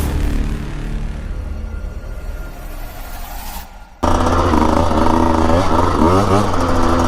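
Husqvarna TE150 dirt bike engine revving loudly up close while riding single track in Florence, Arizona, with a quieter stretch before the engine roars in strongly and holds a steady, rising drone.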